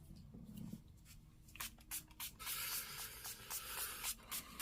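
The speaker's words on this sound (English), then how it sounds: "I'm going to go ahead and set the face with some setting spray." Makeup setting spray misted onto the face, several short hissing bursts in quick succession, close and fairly soft with small rustles between.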